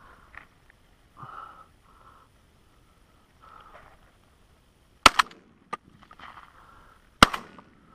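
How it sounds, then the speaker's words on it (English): Two sharp, loud shotgun blasts ring out a couple of seconds apart during a pigeon shoot over stubble fields, with quiet sniffs and faint rustling between them. "I blew feathers out of him on the first shot"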